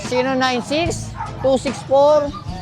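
Giant poodles at a pet market bark and yip in several loud, close bursts, with a whining, whimpering edge between them and people talking alongside.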